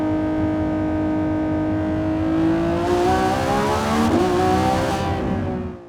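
A 2025 Lamborghini Revuelto V12 revs hard toward 9,500 RPM on a canyon drive, a loud, sustained, close engine howl with rising pitch and a brief dip before climbing again.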